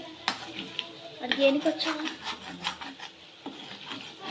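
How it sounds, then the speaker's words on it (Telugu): Metal spatula scraping the bottom of a pan while chicken fries, producing repeated rasping strokes and clinks close by over a soft sizzle, with a voice talking at moments. "ఇట్లా గీరుకుంటూ వేపాలి"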